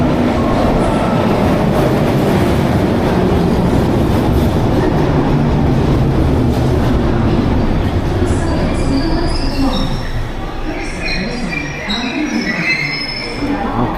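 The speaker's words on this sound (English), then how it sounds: "this is a tube, guys. Bakerloo line, some of the older carriages" An older-carriage London Underground Bakerloo line tube train rumbles loudly through, wheels clattering and squealing high as it slows near the end, with no voices.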